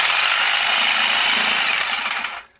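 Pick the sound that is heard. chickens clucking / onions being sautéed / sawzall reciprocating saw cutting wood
sawzall reciprocating saw cutting wood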